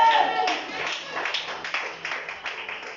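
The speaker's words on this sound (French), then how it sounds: "Si tu le crois, acclame pour le Seigneur." A church congregation applauds for the Lord during a sermon, producing a steady wash of many hands clapping, fairly loud and sustained throughout.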